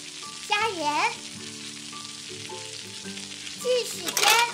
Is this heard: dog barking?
no